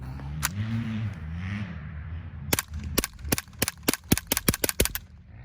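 A suppressed .22 Ruger Charger pistol firing CCI Clean 22 subsonic rounds, heard as about ten sharp, quiet cracks in a fairly quick irregular string, following a stretch of low engine rumble from dirt bikes in the background.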